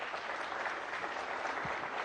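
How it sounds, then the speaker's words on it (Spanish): An audience at a political speech breaks into applause, a steady wash of clapping from a crowd heard at a moderate distance and fairly quiet, with no voice over it. "cuando oigo los aplausos"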